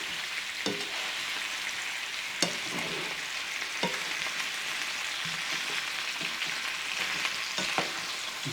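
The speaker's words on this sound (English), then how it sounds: "So now all you got to do is stir this in, let it heat that sauerkraut up real good" Sauerkraut stirred into fried potatoes and hot dog wieners in a skillet, a constant close sizzle broken by repeated scraping taps of the spoon.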